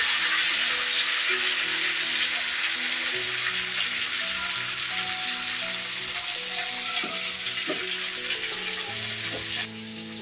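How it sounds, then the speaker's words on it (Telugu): Onions fry steadily in a pan for brinjal masala curry, giving a loud, close, continuous sizzle that carries on for about ten seconds and eases slightly at the end. A faint tonal background runs underneath and nobody speaks. "ఇలా ఆనియన్స్ వేసుకొని బాగా బ్రౌన్ కలర్ వచ్చేదాకా ఫ్రై చేసుకోవాలి"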